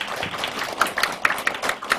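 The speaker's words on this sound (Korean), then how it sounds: "우리 감사의 박수 한 번 더 쳐주시면 감사하겠습니다" An audience at a Goyang eco-friendly farming policy forum gives a short round of applause, heard as scattered, fairly faint, light claps rather than a full ovation.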